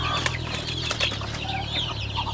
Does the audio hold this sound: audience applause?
no